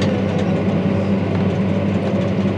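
A tractor engine drones in a steady, heavy low rumble while working a muddy field being prepared for maize, close and constant with no talk.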